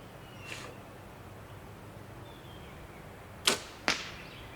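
An arrow loosed from a bow: two sharp, close snaps in quick succession over a quiet outdoor background, with a faint whoosh earlier.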